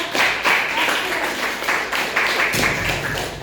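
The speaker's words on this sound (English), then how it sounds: "please everybody clap for yourself" A grade 6 class of schoolchildren claps for themselves in a classroom, a dense round of clapping that is loud and close, dipping briefly then swelling again near the end.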